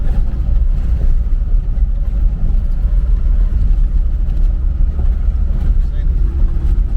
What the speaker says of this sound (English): I still can't believe this is an engine from 1946.